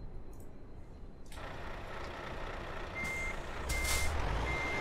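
A truck in Euro Truck Simulator 2 reverses into a parking spot, its engine idling steadily while a faint repeating reversing beep sounds and a short air-brake hiss bursts out near the end.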